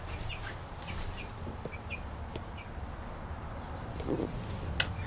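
Young chicks cheep faintly and repeatedly inside a chicken tractor, with soft clucks and a low background hum.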